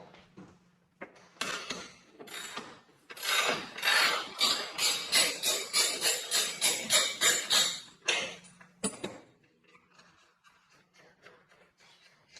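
A sportbike's rear wheel axle is worked loose and pulled out, giving a run of close metallic clicks and ratcheting taps that speed into rapid rhythmic clattering before stopping, then a few scattered clunks.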